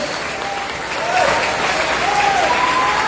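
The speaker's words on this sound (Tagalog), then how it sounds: "Isang palatas na palakpak at pagpupuri sa Diyos." At a 75th founding anniversary gathering, an audience bursts into steady, broad applause, a continuous wash of many hands clapping that swells slightly after the first second, with faint crowd voices beneath.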